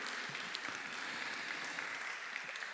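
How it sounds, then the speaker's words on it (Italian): An audience at a poetry festival in Genoa applauding an artist, a steady wash of many hands clapping at a moderate distance, fairly quiet and unbroken. "un altro grande applauso a questo grandissimo artista"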